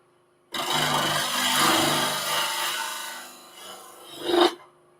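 A hand rasp or file scrapes steadily along a wooden tenon as it is evened out, one continuous rough rubbing stroke lasting several seconds and swelling briefly near the end, close and clear with no talk.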